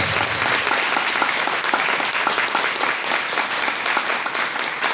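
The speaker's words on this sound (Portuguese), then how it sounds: "Vamos aplaudir Jesus que ele merece?" A church congregation applauds during a worship service, a loud, dense and continuous roar of many hands clapping close by, steady for the whole stretch with little variation.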